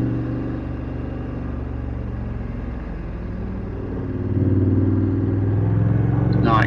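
A small motorcycle straining uphill on a steep bend during a group rideout, a steady droning engine note that rises in pitch and loudness partway through, with wind rumble, heard close from another rider's bike.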